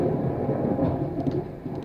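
Video game thunderstorm with a continuous heavy rumble of thunder and rain, steady and fairly loud, with no talking over it.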